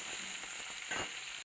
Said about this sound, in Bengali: কড়াতে দিয়ে দেবো পাঁচফোড়ন, স্টিম করে রাখা আমলা